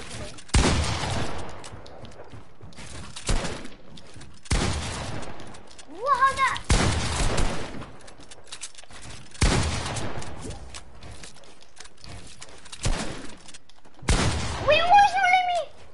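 Repeated bursts of video game gunfire on PS4, sharp loud volleys recurring every second or two alongside brief high squealing effects, with a voice talking now and then.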